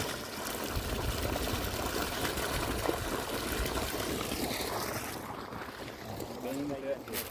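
Steady rushing water pumped by a 1500W BLDC motor flows continuously into an irrigation canal at close range, a broad wash of noise with a brief muffled voice near the end.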